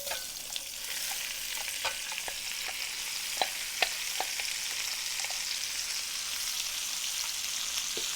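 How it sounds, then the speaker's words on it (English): Onions caramelize in reserved bacon grease, giving a soft, steady sizzle broken by light clicks and scrapes of stirring, heard close with no talking. "we're going to caramelize our onions right now"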